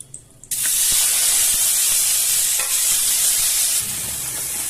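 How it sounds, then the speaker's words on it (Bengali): After a brief quiet moment, a loud, steady sizzle bursts out as small snails seasoned with turmeric and salt hit hot oil in a wok, hissing continuously close by. "এটাতে আমি গুগলিটা ভেজে নেব কড়াইয়ে তেল গরম হয়ে গেছে"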